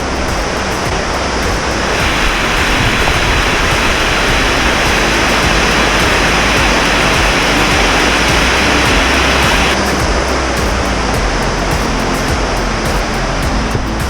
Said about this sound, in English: But it's just an awesome waterfall, really.